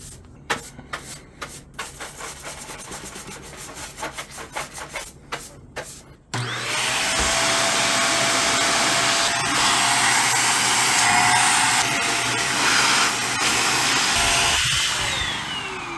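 A vacuum nozzle pulls dust from the vents and dock of a Sony PlayStation 5 console. A few seconds of scraping and rubbing come first, then the vacuum's loud, steady roar runs to the end.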